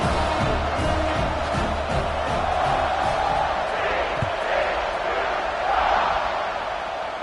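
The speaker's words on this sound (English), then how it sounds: "this crowd is buzzing after that last score" A football stadium crowd buzzes and roars steadily after a score, a broad, sustained murmur of many voices with a voice talking over it.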